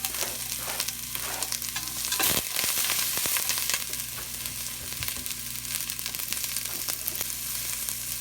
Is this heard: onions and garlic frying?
yes